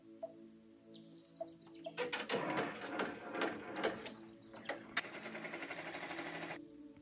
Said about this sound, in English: plug it into my machine and stitch it out for you guys